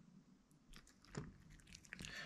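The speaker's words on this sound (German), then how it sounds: "Hört ihr was schmatzen in der Ecke?" A pet named Adi eating nearby, with soft wet smacking and crunchy chewing bites coming in irregular bursts, moderately close and fairly quiet, no talking.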